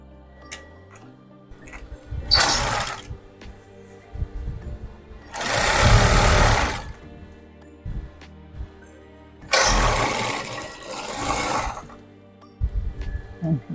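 A domestic sewing machine stitches a half-inch seam allowance on a corporate-style women's outfit, running in three separate bursts, loud and close, with quiet pauses and small handling clicks between them.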